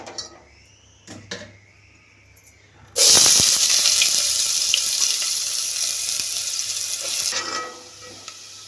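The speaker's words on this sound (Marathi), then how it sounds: "आता आपण याच्यामध्ये कांदा घालून भाजणार आहे" Sliced onion hits hot oil in a pan for a Kolhapuri chicken dish, setting off a sudden loud, steady sizzle that holds for several seconds before easing, after a few quiet kitchen clatters.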